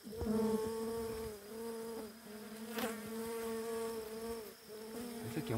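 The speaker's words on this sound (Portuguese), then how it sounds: "Ó, tudo abelha." A dense swarm of honeybees hums steadily during a honey harvest, a close, continuous buzz with a wavering pitch as individual bees drone past, alone without talk.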